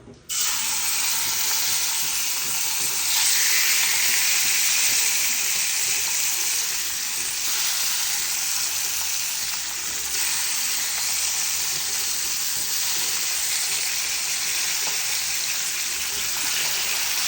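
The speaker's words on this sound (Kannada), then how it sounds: "ಎಣ್ಣೆ ಕಾಯ್ತಾ ಇದೆ. ಫಿಶನ್ನು ಬಿಡುವ." Marinated fish drops into hot oil and bursts into a dense, bright sizzle that starts abruptly and stays loud and steady, hissing continuously with small fluctuations for the whole stretch.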